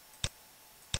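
A computer mouse clicked on a button, two faint, sharp clicks about three-quarters of a second apart over quiet room tone.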